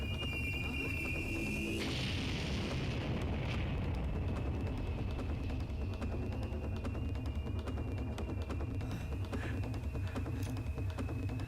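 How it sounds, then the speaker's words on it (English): An orbital laser fires in the Resident Evil Dead Aim video game, a sudden rushing blast followed by a long, sustained rumbling roar with a thin high whine running through it, with no talk. "That's an orbital laser."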